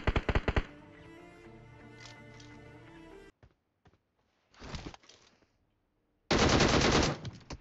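Bursts of automatic gunfire in a mobile battle royale shooter, loud rapid volleys at the start and end with a shorter burst in the middle, over game music and effects.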